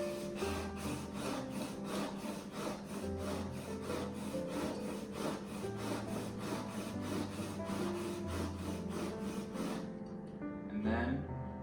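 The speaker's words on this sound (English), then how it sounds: "So now I'm gonna hone the blade on my 1200 grit stone." Plane blade honed on a 1200 grit sharpening stone, a rhythmic back-and-forth scraping rub repeated steadily and close, faint voice underneath, then stopping near the end with a brief clink.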